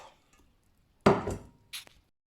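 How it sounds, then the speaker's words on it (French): Sushi rice being mixed with a sugar-salt seasoning in a bowl gives a sudden wet, sticky scrape and squish, followed by a second shorter stir, all close and otherwise quiet. "Je verse la préparation sucre-sel dans le riz et je vais bien mélanger le tout"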